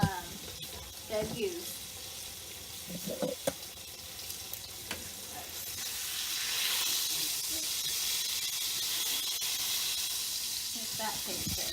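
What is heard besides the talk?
bacon grease and flour sizzling in a pan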